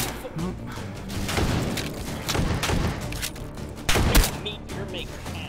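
A light machine gun fires in a modded Take and Hold shooter game, with close, loud bursts of rapid shots and heavy thumps repeating over several seconds.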